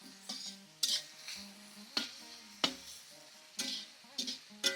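Mutton head curry is stirred and sautéed in a pan, with a spoon scraping and tapping the metal in irregular clacks over a faint sizzle, close and fairly quiet.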